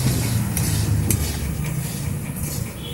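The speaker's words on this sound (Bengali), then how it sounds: "এভাবে আমি সবজির সাথে সাবুটাকে ভালো করে মিশিয়ে দিলাম" Soaked sago being stirred through vegetables in a hot pan, a steady close sizzle and frying hiss with scraping stir strokes and a few light utensil taps throughout.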